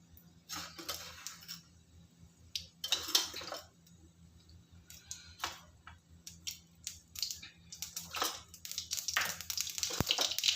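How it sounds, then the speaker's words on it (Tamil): Bursts of crackling and popping spatter come and go, growing denser toward the end, as mustard seeds splutter in hot oil, with no talking. "கடுகு 1/2 ஸ்பூன் போட்டுக்கிறேன்"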